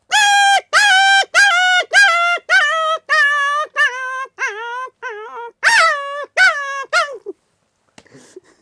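A man mimics a beaten dog crying, giving a rapid series of loud, whining yelps that start strong and steady, then grow shorter and fainter before a final burst and a trailing whimper, all sung with clear voiced harmonics.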